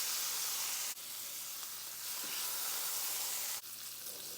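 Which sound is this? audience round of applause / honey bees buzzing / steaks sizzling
steaks sizzling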